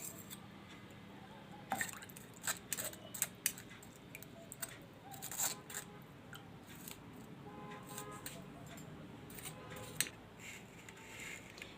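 Fresh lemon juice is poured through a strainer for lemon shikanji, with soft dripping, small splashes and occasional sharp clinks of utensils against glass, heard close and fairly quiet.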